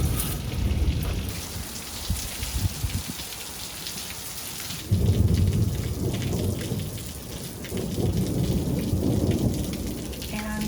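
Monsoon thunderstorm over the Mojave Desert: steady heavy rain pours on surfaces while thunder rumbles and rolls, swelling louder midway through, with no voices.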